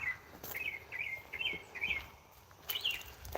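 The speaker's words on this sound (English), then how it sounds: "You can hear the birds getting all worried about Ringo." Small birds call in alarm outdoors, with a series of short, sharp, repeated chirps spaced about half a second apart, moderately near over quiet background hiss.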